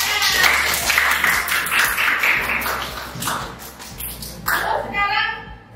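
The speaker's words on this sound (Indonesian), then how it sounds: "Tepuk tangan." Clapping from a classroom of children during a teacher coaching session, a burst of quick, dense claps under children's voices that thins out and then briefly swells again near the end.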